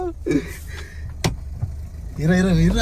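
Car engine and road rumble from a vehicle driving near Sathyamangalam, steady low drone under excited voices, with a brief sharp knock and a voice rising toward the end.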